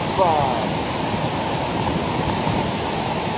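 The Flumen cascades at St Claude during snowmelt roar as a loud, steady broadband wash of falling water, close and unbroken throughout.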